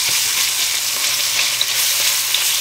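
Grated fresh garlic frying in a pan with oil, a loud, dense, steady sizzle heard up close with only the odd small pop and no voices.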